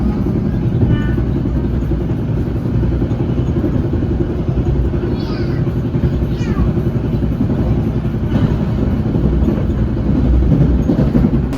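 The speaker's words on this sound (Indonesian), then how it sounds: "Saat ini kereta api Gajah Wong telah tiba di stasiun Bekasi" The Gajah Wong passenger train rolls into Bekasi station with a loud, continuous low rumble of wheels and carriages, occasional squeals and rattles, while people talk nearby.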